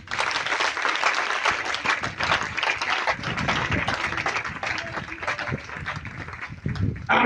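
Congregation at a church gathering bursting into applause, a dense sustained patter of many hands clapping together, fairly distant and steady for the whole stretch.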